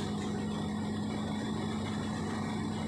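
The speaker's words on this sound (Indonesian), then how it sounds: "Jadi ini mesin bornya," Bore drilling machine boring holes for precast concrete ground piles: a steady, continuous engine drone with a low hum and vibration, running evenly throughout without talk.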